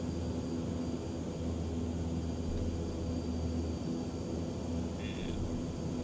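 A King Air turboprop taxiing in Microsoft Flight Simulator 2020 produces a steady, even engine drone with a low hum underneath, constant and moderately loud with no breaks.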